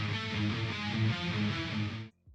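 Layered djent guitars spread wide with a doubler effect, a thick, continuous riff of rhythmic notes played alone at even volume, cutting off sharply near the end with a short quiet remnant.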